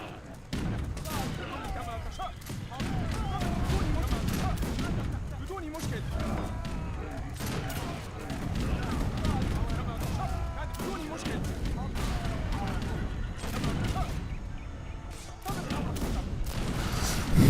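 A battle in Age of Empires 3 fills the air with repeated gunfire volleys, booming artillery thuds and crashes, dense and irregular, running loud under a voice that speaks over it.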